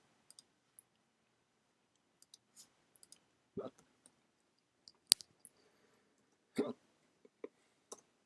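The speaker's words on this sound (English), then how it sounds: "And then I'm going to type." Sparse keystrokes on a computer keyboard in a quiet room, with scattered single clicks and a few short clusters of taps.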